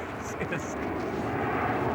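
The last airworthy Avro Vulcan nuclear bomber at a display, its engines at high throttle giving a loud, sustained roaring howl with a faint whistling tone, while someone speaks briefly over it.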